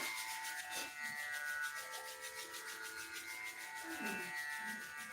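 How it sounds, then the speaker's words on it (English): Palms rubbing together briskly, a steady close, soft swishing friction that runs continuously for several seconds with no talking. "Rub the palms briskly. Rub the palms. To get some friction there."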